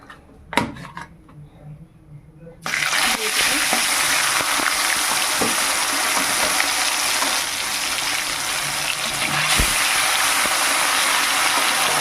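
Rohu fish hits hot oil seasoned with turmeric in a pan, bursting into a loud, steady sizzle after a quiet opening with a couple of sharp clinks. The frying hiss holds strong and even to the end.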